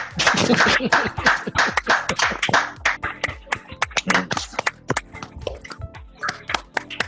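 Unmuted participants on an online video call make noise together, giving a dense, ragged stream of overlapping claps, taps and knocks. Scattered voices mix in throughout, with the clatter staying loud and busy before thinning slightly toward the end.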